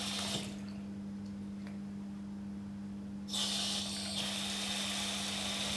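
Water runs steadily from a kitchen tap over an injured hand, a continuous hiss that shifts in tone as the flow is interrupted and then resumes, with a low electrical hum underneath.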